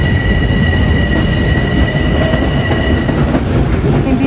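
A Long Island Rail Road commuter train at a station, heard close and loud as a continuous rumble with steady high-pitched wheel squeal tones running throughout, no voices over it.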